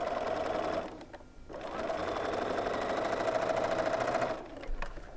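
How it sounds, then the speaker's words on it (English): A sewing machine stitches quilt patches for a Fifty-four Forty or Fight block with a steady, fast mechanical whir, briefly pausing once, then running on at an even pace, close and alone. "So we'll just lay those patches on top and sew."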